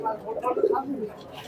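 Teddy pigeon chicks give a short burst of soft cooing and squeaky calls, close and fairly quiet, with no one speaking.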